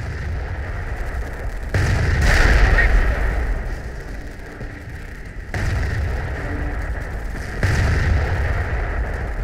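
Heavy satchel charge explosions and gunfire in Company of Heroes, with three big booming blasts rolling out over a steady din of battle, each loud and sustained before fading back.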